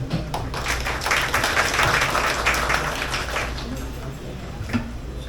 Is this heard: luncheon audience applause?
yes